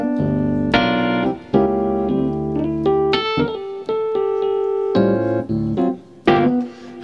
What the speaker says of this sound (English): like, you know, electric pianos.